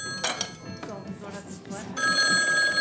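A telephone rings loudly with a bright, rapid bell-like trill that swells toward the end, over clattering sounds and people talking in an indoor setting.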